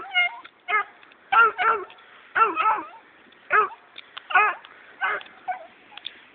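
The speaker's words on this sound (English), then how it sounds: "As you can see, he's barking." A Black and Tan coonhound barks and bays in repeated sharp, tonal bursts with short gaps between them, loud and close during training with a coon pelt.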